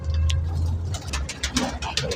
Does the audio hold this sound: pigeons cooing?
yes